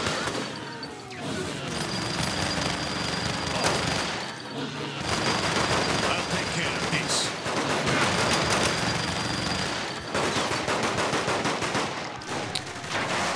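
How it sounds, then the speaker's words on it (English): Minigun fire in Saints Row: The Third, a dense, continuous roar of rapid shots that runs nearly the whole time with only brief breaks, loud and close, with no speech over it. "Minigun up above."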